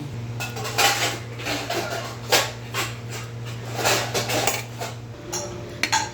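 Gooseberries being stirred into cooked rice on a plate, with a spoon scraping and clinking against the plate in repeated strokes, close and clear, with no talking.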